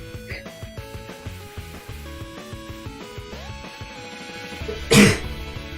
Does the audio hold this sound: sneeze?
yes